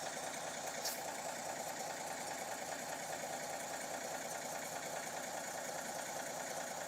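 The steady, rumbling diesel engine of a Laser 130 tractor labors on a muddy logging road, droning continuously at a distance without rising or falling, with no voices.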